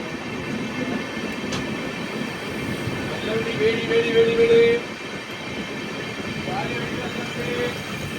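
Ratnachal Superfast Express running slowly through Gannavaram station on its Vijayawada to Visakhapatnam route with LHB coaches, heard from on board as a steady, dense rumble of wheels and coach noise with a brief high squeal midway.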